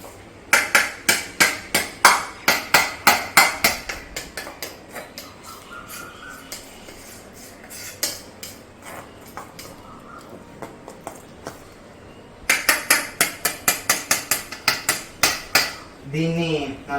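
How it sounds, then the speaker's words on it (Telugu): A spoon or whisk beats dal brownie batter in a bowl, striking the side in quick rhythmic clacks in two loud bursts separated by a quieter stretch of softer stirring, close and alone. "సో బ్యాటర్ని బాగా మిక్స్ చేస్తున్నాం"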